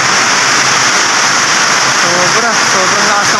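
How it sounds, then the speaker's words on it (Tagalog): Heavy rain pours down in Marikina near a vehicle emission testing center, a loud, dense, unbroken hiss with a faint voice briefly under it. "Sobrang lakas ng ulan dito."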